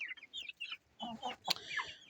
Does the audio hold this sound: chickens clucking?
yes